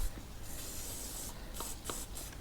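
Short hissing bursts of an aerosol spray can on a Royal Enfield Meteor 350's chain and pivot points, several quick puffs in a row, faint and close over a rough background.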